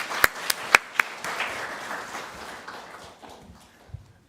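Church congregation at a Korean Sunday service giving a few sharp, distinct claps that quickly thin out into a soft, brief spatter of applause, fading within a few seconds.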